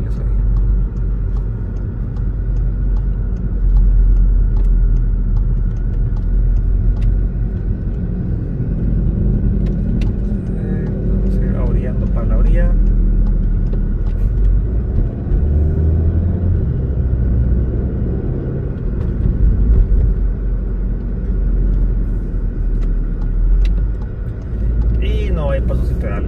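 Steady street traffic flows along Avenida de las Américas, a continuous low rumble of passing cars and engines heard from the sidewalk, with someone talking over it throughout.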